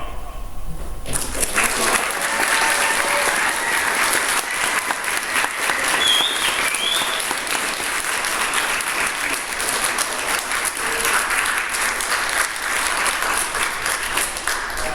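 An audience at a Swedish electrical and energy school programme bursts into loud, sustained applause that stays dense and even from start to finish, with a few voices mixed in.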